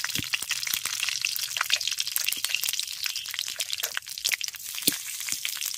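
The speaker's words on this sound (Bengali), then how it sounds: "এবার ফোড়নটাকে 30 থেকে 40 সেকেন্ড একটু ভেজে নেব।" Bay leaf, whole dried red chilli and panch phoron sputter and crackle in hot oil, a dense, steady frying hiss with scattered sharp pops and spits throughout, close and fairly quiet with no talking.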